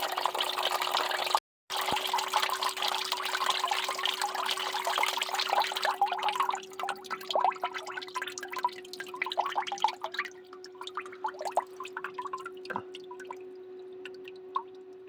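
A steady stream of water pours from a drain plug and splashes into a drain pan, then thins to irregular drips and trickles, with a faint steady hum underneath.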